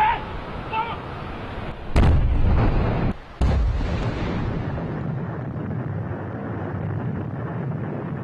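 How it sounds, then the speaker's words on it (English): Controlled rock blasting with explosives on an unstable highway slope along the Karakoram Highway: a deep, heavy boom at about two seconds, a second jolt soon after, then a long rumbling wash of wind and falling debris. "he decided to use just enough explosives to loosen the rock"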